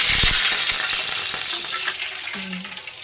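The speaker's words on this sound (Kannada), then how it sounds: "ಈಗ ತುಪ್ಪಕ್ಕೆ ಸ್ವಲ್ಪ ನೀರು ಹಾಕ್ತೇನೆ" Water poured into hot ghee in a pan sets off a loud, bright sizzle that hisses strongly at first and slowly settles, with a few stirring clinks and no talking.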